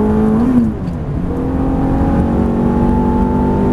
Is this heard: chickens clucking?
no